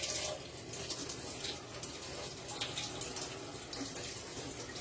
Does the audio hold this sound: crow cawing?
no